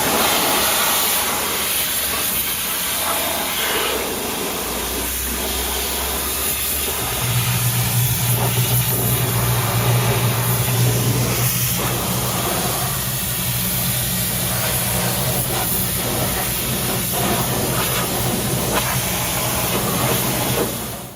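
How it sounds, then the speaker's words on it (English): A steam cleaner blasts the underside of a 1972 Chevy Suburban C20, giving a loud, steady, unbroken hiss over a low machine hum whose pitch shifts partway through. "First thing I did was steam clean this."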